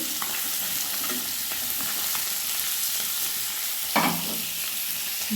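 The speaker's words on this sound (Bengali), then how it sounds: "মাছগুলো এক পিঠ ভেজে আমি উল্টিয়ে দিয়েছি" Koi fish frying in oil in a pan, a constant close crackling sizzle with faint stirring taps and one louder scrape or flip near the end; nobody speaks.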